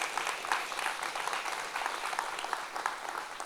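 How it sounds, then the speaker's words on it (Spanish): A church congregation applauding: sustained, dense clapping from many hands, fairly even and moderately loud throughout. "Denles un aplauso a todas esas mujeres."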